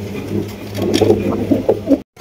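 A pair of red Jacobin pigeons cooing close by, a few soft low coos over a steady low hum, ending abruptly.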